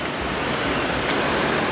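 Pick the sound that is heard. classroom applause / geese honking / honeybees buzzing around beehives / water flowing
water flowing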